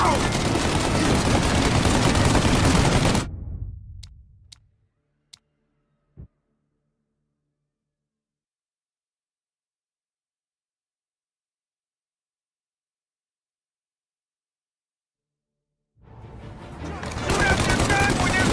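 Machine-gun fire roars in a heavy, sustained burst from Mafia: Definitive Edition, cuts out into near silence with a few isolated sharp cracks, then returns loud with voices over it.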